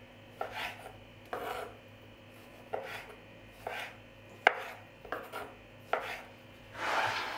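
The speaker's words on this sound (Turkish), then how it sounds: "Küçük çeri domateslerini de şöyle ikiye, dörde bölüp kesiyorum." A knife slices small cherry tomatoes into halves and quarters on a cutting board, producing about ten crisp, close chopping taps at an uneven pace, ending with a brief scraping sweep and no talking.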